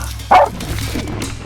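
Pig-hunting dogs bark at a cornered boar on the Chatham Islands, one sharp close bark standing out above a steady low background rumble.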